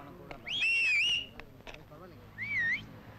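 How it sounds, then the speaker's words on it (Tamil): A police whistle blown twice in a tense street scene from an Indian film, two shrill warbling blasts, the first longer and the second shorter, with brief speech and background noise between them. "இது மாமூல் விசில் இல்ல பாப்பா, போலீஸ் விசில்."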